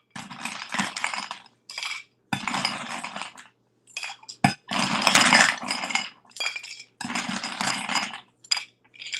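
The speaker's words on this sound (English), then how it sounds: "So let's add some ice." Ice cubes dropped into a cocktail glass in several separate bursts of bright clinking and rattling, close and fairly loud, with brief silent gaps between the handfuls.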